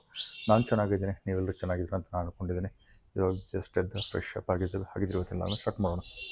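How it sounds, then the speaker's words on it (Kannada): Birds chirp in the morning, with faint high twittering calls scattered behind a person talking steadily in the foreground. "ಪಕ್ಷಿಗಳ ಸದ್ದು. ಬೆಳಗ್ಗೆ ಎದ್ದ ತಕ್ಷಣ ಕಂಟಿನ್ಯೂಸ್ ಕೂಗ್ತಿರ್ತಾವ್ರಿ."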